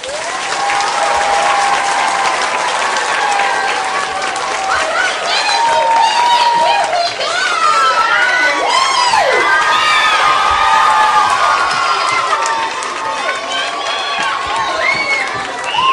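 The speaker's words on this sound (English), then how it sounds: "let's give a big round of applause to our Minute to Win It contestants as they come back in" A studio audience at a Minute to Win It game show claps and cheers loudly and continuously as contestants return, with children's shouts and whoops rising over the sustained applause.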